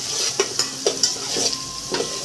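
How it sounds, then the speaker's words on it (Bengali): Small onions stirred and frying in a hot pan, with soft sizzling under a series of distinct scraping stirs about every half second, close and fairly loud, no voices. "ছোটো পেঁয়াজটাকে দিলাম, দিয়ে আমরা এটা নাড়াচাড়া করব।"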